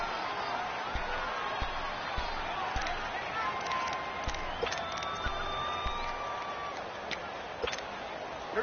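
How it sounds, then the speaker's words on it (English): A stadium crowd roars and cheers in an American football video game on PS4, a continuous broad swell of noise with scattered sharp ticks and thumps, while a commentator talks over it. "the crowd getting into it as we come up on a big third down"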